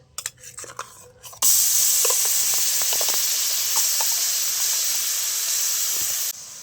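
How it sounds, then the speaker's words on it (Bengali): Coconut paste hits a hot kadai (wok) with a sudden loud, steady sizzling hiss that runs for several seconds, after a few quieter clinks and scrapes, and no one speaks. "এবার এই নারকেল পেস্টটা কড়াই দিয়ে দেবো"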